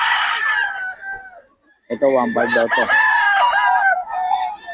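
Chickens and roosters crowing and clucking at a chicken sale, with loud, close crowing calls breaking out repeatedly after a brief pause while someone talks over the birds.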